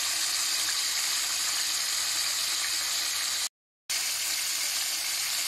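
Bell pepper sizzles and hisses steadily in a hot frying pan, a loud, continuous frying noise that cuts out briefly near the end and then resumes.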